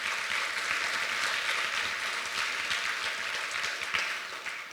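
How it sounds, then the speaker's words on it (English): Audience applause from a school gathering, a steady wash of many hands clapping together at moderate volume for the whole stretch, with no voices over it. "give all of yourselves a big round of applause"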